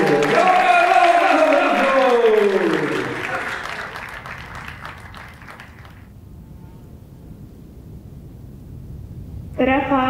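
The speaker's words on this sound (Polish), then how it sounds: "Wielkie, wielkie brawa dla panu!" Wedding guests applauding, a dense burst of clapping that fades out midway under an announcer's amplified voice, followed by a quiet stretch and a sudden return of louder clapping at the end.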